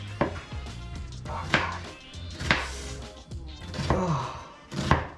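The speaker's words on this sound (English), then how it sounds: "Or is it because I'm cutting the onions?" Knife chopping onions in a home kitchen, a handful of separate, sharp chops on a cutting board spaced about a second apart, with soft sighs and breaths between the cuts.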